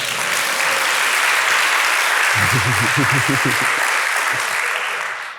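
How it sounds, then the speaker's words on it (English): A TEDxBreda audience applauds a guest in the room, a broad sustained wash of clapping with a short stretch of voices murmuring underneath midway through. "I want to ask everybody to give her a small applause"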